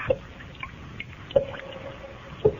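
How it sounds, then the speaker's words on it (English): Three distinct drips fall slowly and evenly into liquid, each a small resonant plop with a brief ring, presented alone as a dripping blood sound effect over a faint background hiss. "The sound you hear is dripping blood."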